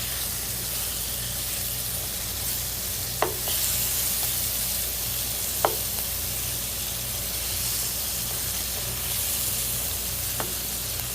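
Pounded venison sizzles steadily in an electric skillet for stroganoff, a close, continuous hiss with a few sharp pops and clicks standing out.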